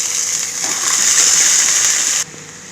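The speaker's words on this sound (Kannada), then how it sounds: "ನೀರೆಲ್ಲ ಬಸ್ಸಿ ಹಾಕ್ಕೊಬೇಕು." Water is poured into a cooking pan holding chickpeas, a steady gushing hiss lasting about two seconds before stopping abruptly, close and fairly loud.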